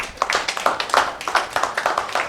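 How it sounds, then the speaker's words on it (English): Applause for a speaker at a Miss Muslimah Ghana talk event, heard as a short burst of scattered, uneven clapping from a small group, close and moderately loud, with no talking over it. "A round of applause one more time for Rahina."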